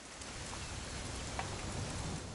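Continuous rainfall in What Remains of Edith Finch makes a soft, uniform hiss of drops, fairly quiet and unbroken, with a faint thud or two underneath.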